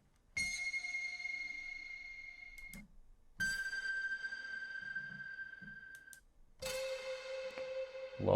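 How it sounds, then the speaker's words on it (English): High metal sound effect samples, three separate struck-metal hits each ringing with a bright sustained tone that decays slowly, separated by short gaps, clean with no talk. "Here's some of our high metal sounds."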